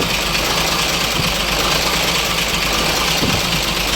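An Isuzu 6HK1 diesel truck engine, full electronic, with fault code P1094, idles steadily with a low, rough rumble and faint knocking pulses, loud and close, with no talking.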